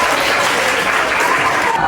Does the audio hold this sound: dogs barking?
no